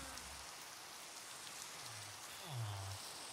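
Rain falls in the video game Minecraft as a soft, steady hiss of drops, faint and continuous, with a few low tonal sounds rising briefly near the end.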